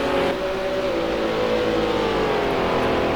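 Race cars run through a hairpin and onto the front straight on a circuit, giving a continuous, loud engine drone with rising revs that holds for the whole stretch, with no talk.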